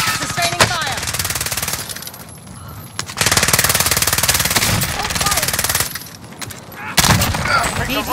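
Sustained automatic gunfire from a battle-royale video game rattles in long rapid bursts separated by short pauses, loud and close, with game voice callouts mixed in.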